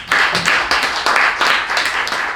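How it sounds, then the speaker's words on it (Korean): Audience clapping in welcome at a church service in Korea, a fairly small, loose burst of hands close by, rising and falling in uneven waves for a couple of seconds. "박수로 환영합니다"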